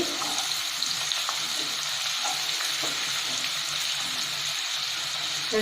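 Chopped onions sizzle steadily in hot oil with clove, cardamom and cinnamon, a dense, even frying hiss running throughout with a few faint stirring knocks and no voices.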